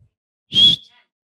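One short, clear whistle, a single bright tone lasting about a quarter second in an otherwise silent moment.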